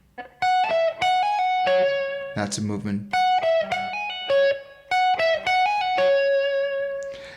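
Distorted electric guitar playing a quick riff of slurred, ringing notes, with a brief spoken remark in the middle.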